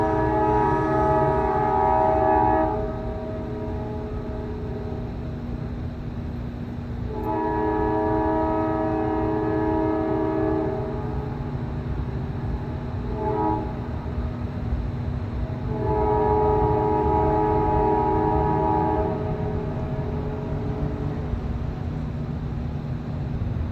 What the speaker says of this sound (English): Now, I will let you listen to the continuous horn blowing for each and every one of those